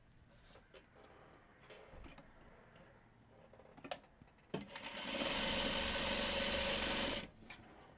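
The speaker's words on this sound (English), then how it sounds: "we'll sew off on another square here" Sewing machine stitching a quilt square, preceded by scattered ticks and handling clicks, then a loud steady mechanical whirr for about three seconds before stopping.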